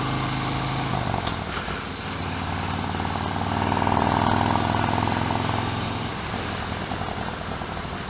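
A motorcycle with a suicide shift rides along with a steady, loud engine drone and heavy wind rush. The pitch drops after a gear change early on, then swells and eases again as it moves through the gears.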